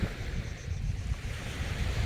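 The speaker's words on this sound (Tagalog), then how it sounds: "Nakakatakot maligo, lakas ang alon." Heavy surf crashes and rumbles continuously, with gusty wind buffeting the microphone throughout.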